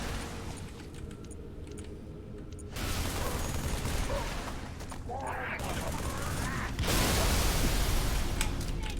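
Gunfire in Halo 3: ODST, dense rapid bursts of shots forming a steady loud fusillade that intensifies partway through, with a voice talking over it.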